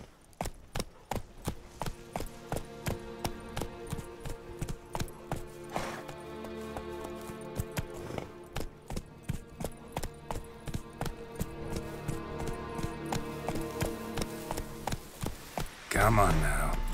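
A horse's hooves pound in a steady, regular rhythm across The Witcher 3's open world, close and prominent over layered game music, speeding into a denser run near the end.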